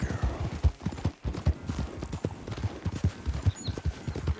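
Horse hooves clip-clop in steady rapid rhythm during a race in Red Dead Redemption II, loud and close, with the mare galloping continuously and faint voices in the background.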